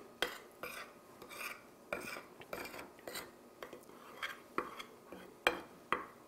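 Dry flour mixed with black pepper and salt for baccala, worked with a utensil against a bowl in a run of sharp scraping and clinking strokes, regular and close, with no talk.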